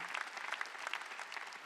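A church congregation at a Sunday service in Incheon claps together, making a quick, crisp patter of many hands that stays close and lively throughout.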